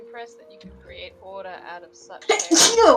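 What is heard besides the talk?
sneeze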